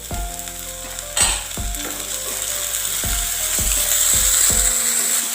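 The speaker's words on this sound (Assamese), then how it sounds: "পিঁয়াজখিনি ৰঙচুৱা হৈ গ'ল, এতিয়া আমি ইয়াত আদা নহৰুকণ দি দিম" Ginger and garlic go into browned onions frying in a pan, giving a continuous close sizzle with several distinct scraping stirs of a spatula at a slow, irregular rhythm.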